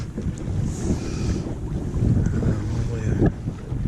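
Strong wind buffets the microphone on a small mini bass boat out on open water, a steady broadband rush with a few gusts and faint water movement, continuous throughout.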